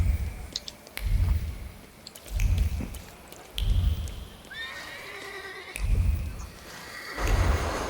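Horse pulling a cab in the Warsaw-set video game The Thaumaturge: rhythmic heavy hoof-and-wheel thumps repeating about every second and a half, with a high whinny rising briefly midway, close and clear without speech.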